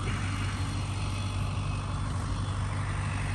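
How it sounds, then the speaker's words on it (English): A tractor at the RIU Palace Mexico resort in Playacar, Playa del Carmen, rumbles past with a steady low engine drone, close and continuous throughout. "Tractor's coming around again."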